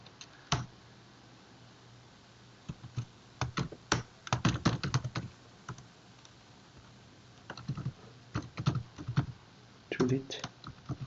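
Computer keyboard typing while writing code comes in irregular bursts of crisp clicks with pauses between them, close and moderately loud over a low background hum.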